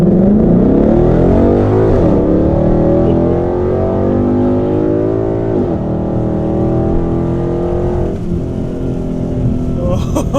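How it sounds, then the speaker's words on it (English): A muscle car launches hard in track mode and accelerates, its engine roaring loud and close while the pitch climbs steadily through one gear, drops at each shift, and climbs again through three gear changes. "I'm gonna left foot on the brake, right foot on the accelerator."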